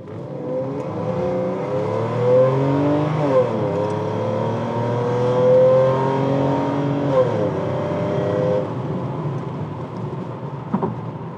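A 1993 Mercedes-Benz 600 SL AMG pulls away hard from a standstill, its engine loud and close, climbing through the revs with audible gear shifts that drop the pitch before it rises again, a steady powerful roar with no talking.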